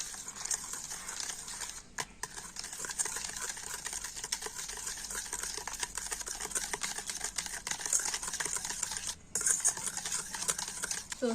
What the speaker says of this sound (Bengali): একটা ব্লেন্ডার দিয়ে টক দই গুঁড়ো চিনি আর বাটারটা খুব সুন্দর করে ফেটিয়ে নেবো